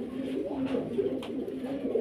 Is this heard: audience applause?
no